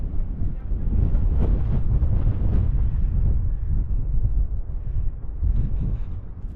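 Strong wind buffets the microphone on the mountain at Y Garn in Snowdonia, a heavy low rumbling roar that swells and eases in gusts, close and loud with no talk.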